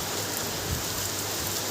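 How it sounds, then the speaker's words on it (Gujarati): Heavy rain pours down steadily in Juna Deesa, a dense, even hiss of falling drops close by with no voices. "વરસાદ બહુ ચાલુ છે ઘણો"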